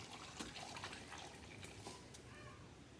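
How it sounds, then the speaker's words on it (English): Water pours steadily into a cooking pot in a home kitchen, a soft, continuous liquid rush with light splashing, heard close and fairly quiet. "then we're going to add in our water."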